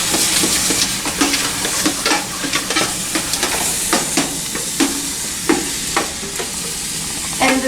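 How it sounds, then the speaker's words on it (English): Onions cooking down in a pot for a three-bean chili, a steady close frying sizzle and hiss with frequent stirring scrapes and clinks across it, no talk. "So I'm going to just cook it down some more so that the onions are cooking."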